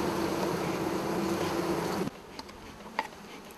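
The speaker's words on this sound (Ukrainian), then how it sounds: "І буде поєднуватися з гулом бджіл." Honey bees swarm around a honeycomb picture made by a beekeeping artist, a dense loud buzzing hum that cuts off abruptly, leaving a quieter background with a few faint individual buzzes.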